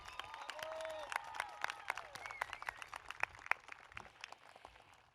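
Graduation audience at EPHS applauding a retiring teacher, scattered claps ringing out with sharp individual peaks over a steady crowd murmur, moderately distant and building through the moment.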